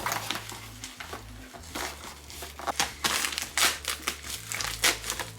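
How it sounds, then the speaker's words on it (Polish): Plastic parcel packaging crinkles and rustles as it is cut open with scissors, a dense run of close, crackling crumples and snips with no talk. "Także mam nożyczki i otwieramy."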